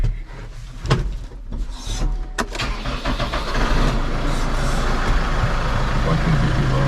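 A farm tractor's engine cranks and fires into a steady running rumble in a snowy yard, following some brief knocking and rubbing in the cab, fairly close and loud with no talk over it.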